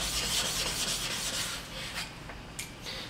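A Japanese sharpening stone being flattened, rubbed back and forth against an abrasive surface in a close, gritty rasping scrape with uneven strokes that ease off midway, then a sharp click near the end.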